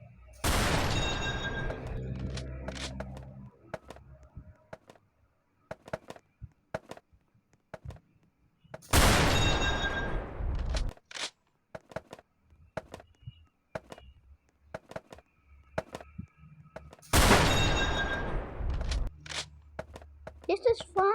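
Three loud sniper rifle shots in the Roblox game Brookhaven ring out about eight seconds apart, each a sharp crack with a decaying tail, separated by quieter clicks and taps.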